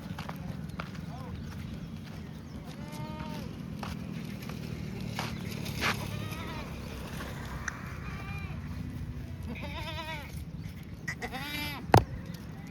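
Kathiyawadi goats bleat repeatedly in a pen or yard among buffaloes, several wavering calls near and farther off over steady background noise, with people talking and occasional hoof clatter.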